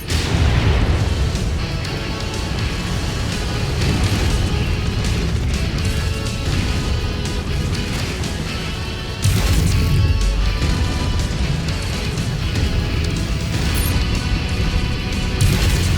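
Missiles exploding in the MechWarrior 5 Mercenaries battle game, a dense, loud barrage of booming blasts and crashes that rumbles on continuously, with a sharp fresh burst partway through.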